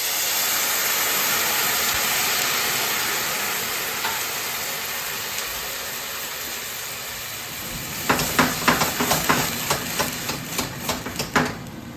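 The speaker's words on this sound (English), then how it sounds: "Now I'm going to add the wine just to get everything started." Wine poured onto rice toasting in a pan for mushroom risotto, a loud steady sizzle and hiss, then a series of quick stirring scrapes and sputters near the end, with no talking.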